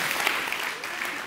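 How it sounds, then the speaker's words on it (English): Church congregation applause during a sermon, a brief steady wash of clapping from a crowd in the room. "give her a hand clap"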